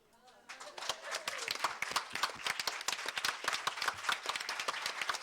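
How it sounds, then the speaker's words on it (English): Audience applause for a Quantum Leap guest panel, dense steady clapping from a crowd that starts abruptly and continues strongly throughout, fairly close and with no voices over it. "Let's give a nice round of applause for them."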